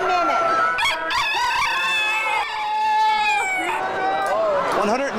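Roosters crowing at the Minnesota State Fair crowing contest, several loud drawn-out crows overlapping one another with a crowd and voices talking underneath.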